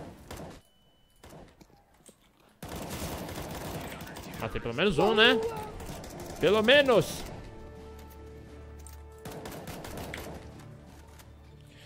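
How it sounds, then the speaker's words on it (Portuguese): Gunfire in Counter-Strike, with sharp bursts of shots and scattered mechanical clicks across a dozen seconds, heard under excited Portuguese-speaking players chatting and reacting. "O barulho das armas tá muito feio"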